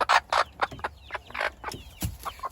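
A hen clucks in a poultry yard with short, uneven bursts of close clucks and squawky calls, other birds chattering faintly around it.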